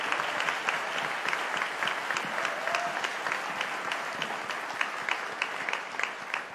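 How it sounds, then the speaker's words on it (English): Graduation ceremony audience applauding, a steady wash of many hands clapping at moderate distance, continuous and fairly even throughout with no voices over it. "And please, a round of applause for our amazing order from the Fountain School of Performing Arts, Wesley Giffen."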